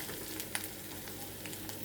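A soft, steady sizzle of garlic and cumin paste frying in a pan, faint and continuous with a small stir click near the middle.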